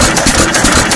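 An old John Deere 1 1/2 hp Type E hit-and-miss engine, painted pink, chugging loud and close with a steady rhythmic beat.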